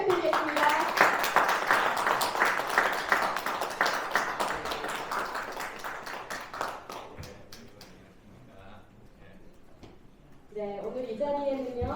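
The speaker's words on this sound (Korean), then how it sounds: "뜨거운 박수 부탁드리겠습니다" An audience applauds at a political policy presentation for candidate Ahn Cheol-soo, a dense steady wash of clapping that fades slightly and then swells again, with a presenter talking over it.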